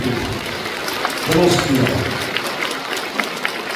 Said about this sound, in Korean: 우리 다 같이 찬탄 박수 부탁드리겠습니다.